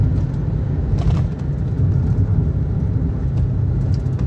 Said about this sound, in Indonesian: Nah seperti ini misalkan kita mau nyalip, kasih ke gigi 3, gas.